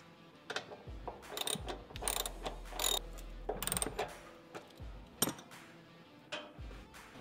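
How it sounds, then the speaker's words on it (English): A socket wrench with a 10mm socket ratchets an OEM bolt into the tube door limiting strap bracket on a Toyota Tacoma, giving several close, crisp clicking bursts with short pauses, with no talking. "Using a 10mm socket and the OEM bolt, we're going to screw in the limiting strap bracket."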